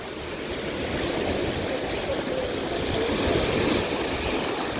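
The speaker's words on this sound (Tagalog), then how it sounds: "Yung ulan, saka yung hangin." Heavy rain and strong wind: a dense, steady broadband roar of downpour and gusts, loud and continuous, with a slow swell in the middle and no voices.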